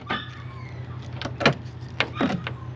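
A van door lock actuating: several short mechanical clunks and buzzing clicks in quick succession, close by, with no talking.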